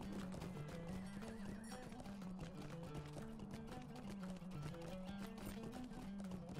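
A horse in Lord of the Rings Online whinnies while hooves clop in a steady rhythm, faint and continuous over a droning musical background.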